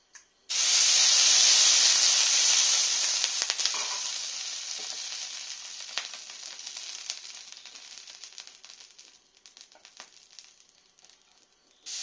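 Dosa batter hits an oiled, high-heat pan and bursts into a loud, close hiss that gradually softens into a crackling sizzle with scattered pops, with no talking.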